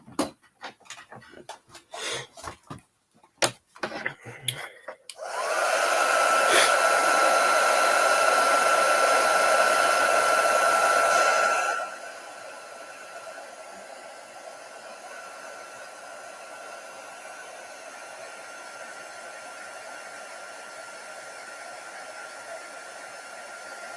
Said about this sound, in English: Might even put the hair dryer on it.